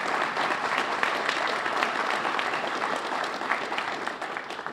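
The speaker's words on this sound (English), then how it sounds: "So let's give them one more round of applause." A room full of attendees at a Chamber of Commerce legislative breakfast claps steadily, a busy even patter of many hands at moderate volume lasting several seconds without letup.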